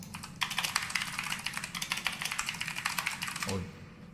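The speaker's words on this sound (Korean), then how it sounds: "키보드 소리가 너무 요란하네요." Rapid, busy clatter of keys on a computer keyboard, steady and close, fading out near the end.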